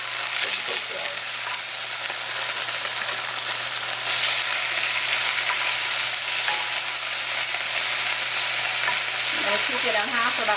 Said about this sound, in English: I'm just putting in some bacon grease.